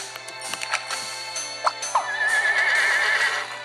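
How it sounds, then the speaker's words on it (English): A horse neighs in the video game Scribblenauts Unlimited: a sharp whinny rises over busy game music and chimes, then trails into a long, wavering high note that holds for about a second before fading. "A horse."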